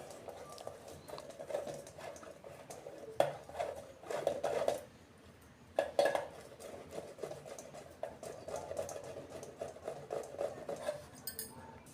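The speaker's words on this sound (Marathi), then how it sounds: "किसणीनं किसून घेते" Sweet potato rubbed on a hand grater, a soft irregular rasping and patter in quick strokes with a short pause midway, faint and close.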